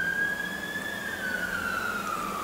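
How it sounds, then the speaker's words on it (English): Fire engine siren as the truck heads out on a call, a single wailing tone rising and slowly sweeping upward at moderate distance, heard alone over faint background traffic. "I don't know if the mic on the camera picked that up, but that was our fire engine going out on a shout"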